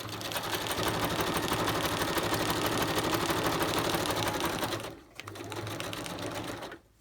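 A sewing machine runs steadily as it stitches acetate fabric, its dense rapid whir held for about five seconds, then breaking off briefly before a shorter second run.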